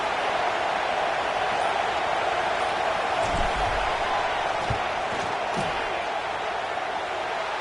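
A large stadium crowd at a college American football game between FAMU and Florida roars steadily, a constant wash of noise with a few louder swells and thumps partway through, as the kicker lines up.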